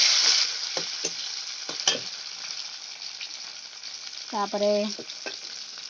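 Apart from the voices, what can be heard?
frying onions and tomatoes in hot oil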